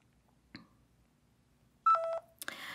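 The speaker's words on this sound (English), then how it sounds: "you're going to hear a little beep sound" A short electronic beep tone plays after near silence, preceded by a faint click and followed by a brief rush of noise.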